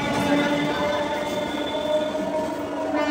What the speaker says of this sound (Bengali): ডাউন মেদিনীপুর হাওড়া লোকাল ছেড়ে হাওড়ার উদ্দেশ্যে রওনা দিয়েছে